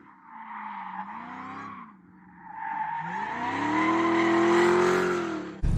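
A Dodge Demon muscle car skidding hard, its tires squealing in long wavering tones over a roaring, rising engine that builds to a loud sustained screech before cutting off abruptly.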